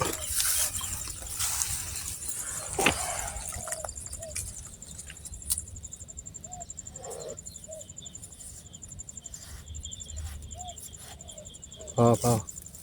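An outdoor waterfall at a weir in rainy-season countryside, a steady broadband rush of flowing water throughout, with insects and birds audible over it and a few sharp knocks and bumps.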